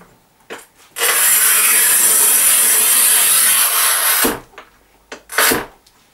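Large-format ceramic tile scored with a manual tile cutter gives one sustained harsh, gritty scraping stroke lasting about three seconds, followed by a few short scratchy rubs, close and loud in a quiet room.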